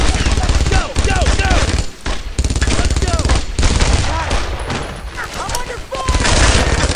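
Sustained loud machine gun fire from WWII-era nests in the video game Brothers in Arms, dense overlapping bursts with brief gaps, close and dominant, with shouted voices mixed in.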